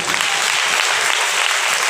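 A congregation claps loudly together in a steady, dense burst of applause that fills the room without pause.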